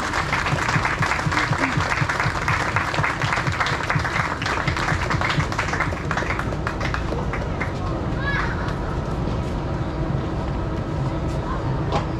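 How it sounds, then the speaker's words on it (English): An audience at the opening event of Santa Lucia in 2023 gives a long, steady round of applause, a continuous dense clatter of clapping that holds for over ten seconds with no clear talk. "If you guys want to give a round of applause as Linda Chapman's family makes their way to"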